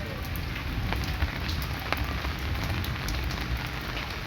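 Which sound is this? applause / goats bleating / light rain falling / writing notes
light rain falling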